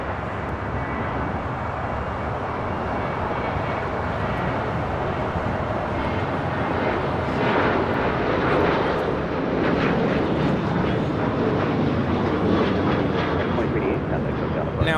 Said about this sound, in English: 2388 taking off to Las Vegas on a 737-800.